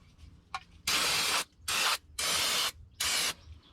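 Brake cleaner sprayed onto the PTO seal of a Mahindra 2555 tractor: four sharp, hissing bursts of aerosol spray, close and loud, with short quiet gaps and a faint click before the first.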